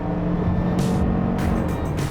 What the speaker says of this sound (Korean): 엔진 회전수가 확 튀어가지고 소리로 들려오는 이질감을 제외하면 속도도 탄력 있게 아주 잘 붙고